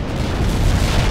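Artillery and airstrike explosions in World in Conflict form a dense, loud, continuous rumble of blasts with heavy low-end boom throughout.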